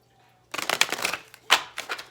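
A Faery Oracle card deck being shuffled by hand, giving bursts of crisp riffling and flicking close up, with a short pause between the runs.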